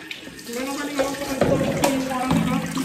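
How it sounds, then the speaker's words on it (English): Tap water running into a bottle in a room, a steady splashing stream whose pitch rises gradually as the container fills. "I'm filling it up with tap water."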